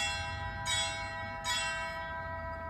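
Church bells: two strikes about a second apart ring out over a sustained, shimmering bell tone that hangs in the air.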